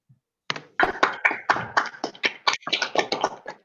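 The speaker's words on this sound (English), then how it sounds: "Kids in the live audience, can we give Jack a round of applause" A live audience of kids gives a round of applause, a burst of uneven hand claps starting after a brief silence and continuing close and fairly loud for about three seconds.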